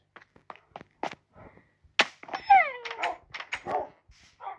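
Minecraft dogs make short, scattered yips and whines in the game, faint and sporadic, with a few brief squeaky cries in the middle.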